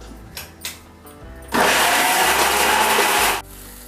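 A mixer grinder blends guava chutney in a loud, steady whirring burst of about two seconds, preceded by a few faint knocks and followed by quiet.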